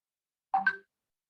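A phone rings once near a video class, a short tonal electronic chime with two quick overlapping notes, fairly clear and alone against silence.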